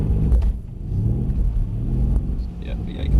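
A Mercedes C63s engine rumbles low and heavy as the car accelerates on throttle, with a continuous booming drone that swells toward the end and voices talking faintly underneath.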